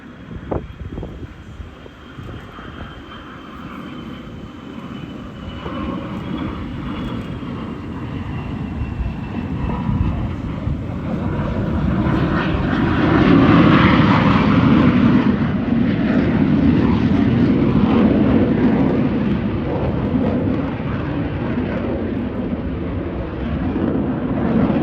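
A Blue Angels jet makes a slow, high angle-of-attack pass at about 120 knots at NAS Pensacola, a long, heavy rumble that swells to a loud peak midway, then holds strong with a broad engine roar.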